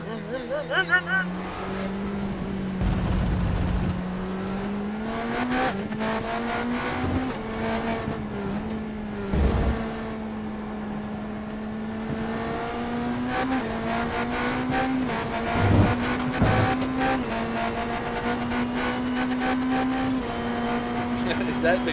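A prototype race car engine howls in a racing video game, climbing through repeated gear shifts with brief dips and thumps, while a voice talks over the steady drone.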